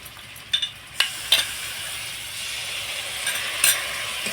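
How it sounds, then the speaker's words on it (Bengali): Spiced yogurt masala frying in a pan as a little water is added, giving a steady sizzle with a few sharp stirring clinks and scrapes, fairly close and with no voices. "বাটি ধুয়ে খুব সামান্য একটু জল দিয়ে দিচ্ছি"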